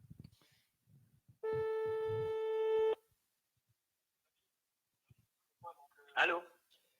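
A telephone ring tone sounds once for about a second and a half while a call to someone is placed, a steady loud electronic tone between brief bits of speech before and after.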